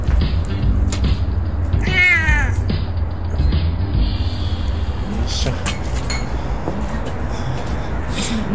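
An elderly cat meows with a rising, wavering cry, close by, amid low background rumble and occasional clinks.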